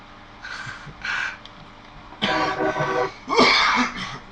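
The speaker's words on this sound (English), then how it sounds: "I was coughing there a minute." A man coughs and clears his throat several times in short, separate bursts, close and fairly loud, with quiet gaps between them.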